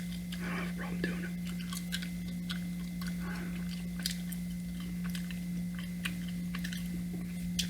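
Gum chewed right against the microphone, with repeated wet smacks and sticky clicks in an irregular rhythm over a constant low electrical hum.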